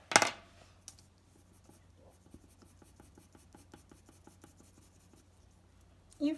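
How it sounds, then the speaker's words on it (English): Marker and colored pencil rubbing on paper while rendering skin tones, a soft, steady run of small scratchy strokes in close quiet, framed by brief louder handling noises at the start and end. "I think the best idea is to blend with some colored pencil"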